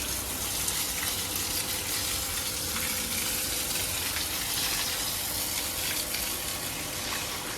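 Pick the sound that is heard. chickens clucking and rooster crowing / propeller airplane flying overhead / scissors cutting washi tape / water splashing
water splashing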